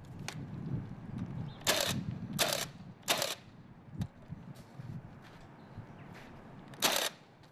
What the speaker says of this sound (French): Nous fixons les lattes poussière sur les chevrons avec le pistolet cloueur.